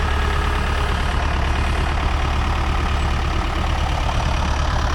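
An old tractor engine runs steadily nearby, a continuous low chugging rumble with no pauses.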